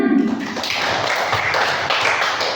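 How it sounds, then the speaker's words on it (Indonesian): A classroom group claps hands together in a brief dense burst, filling the space with overlapping claps over steady room noise. "Iya, tepuk tangan."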